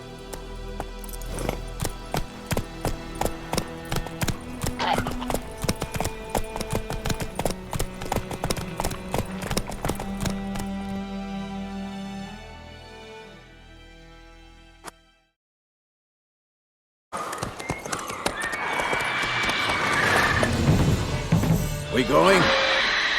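Roach's hooves in The Witcher 3 beat out a rapid, regular clip-clop gallop for several seconds before tapering off. After a short silence a burst of loud, chaotic noise follows.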